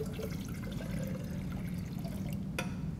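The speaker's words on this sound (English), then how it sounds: "pour the sodium hydroxide in." Sodium hydroxide is poured into a liquid during a phosphoric acid dissociation experiment, making a steady, soft, close wash of pouring and splashing with one sharp click near the end.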